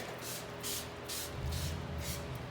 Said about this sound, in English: if I'm going to spray this plant here, I'm just going to spray the whole thing.